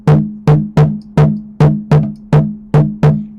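A small junjun drum is struck in a 3-3-2 pattern, nine close, loud, resonant hits with sharp attacks and short booming decays, grouped unevenly and repeating without talk.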